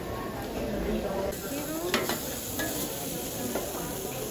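Meat and tortillas cook on a street-food griddle in Mexico City, a steady close sizzle mixed with scraping and clinking of a spatula on metal, with people talking quietly nearby.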